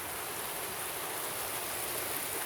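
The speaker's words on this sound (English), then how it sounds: "It's very rainy." Heavy rain pours steadily outdoors on a rainy Halloween night in 2019, a dense, even hiss of water on surfaces with no breaks, close and loud throughout.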